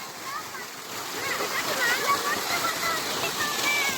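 Flowing water splashes and rushes in a continuous, fairly close wash that swells slightly partway through, with voices talking over it.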